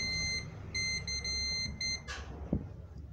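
Multimeter continuity buzzer sounding in several short high-pitched beeps while probing a shorted Epson L1110 printer mainboard, followed by a faint click, quiet and close.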